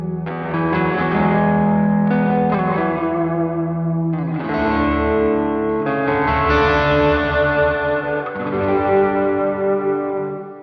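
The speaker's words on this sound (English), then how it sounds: "So the reverb that I'm using is actually just a hall reverb." An electric guitar plays chords through a NUX MG-50 Li amp with its hall reverb turned to maximum, sustained notes ringing out and washing into long, lush tails with a hint of drive and chorus.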